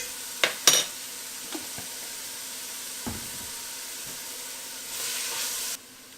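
Red onions and garlic sauté with a little salt in a pan for leek soup, a soft steady sizzle broken by a few sharp clinks and stirring scrapes, then a louder hiss swells briefly near the end.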